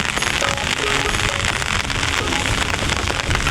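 Steady rain pouring down in a rural village, a dense, loud, unbroken patter across the whole stretch with no voices.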